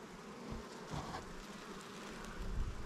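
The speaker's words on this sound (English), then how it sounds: "Ton of bees in here." Honey bees humming steadily inside an opened backyard hive during a July inspection, a dense continuous drone with a few individual bees buzzing closer past, moderately quiet and without speech.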